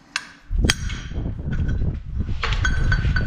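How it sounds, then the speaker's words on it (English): A hammer strikes metal on a Pantera, one sharp clang followed by another heavier hit, then a clattering, rustling workshop noise continues to the end. "So all I'm going to do is just take the hammer and just put a mark in it."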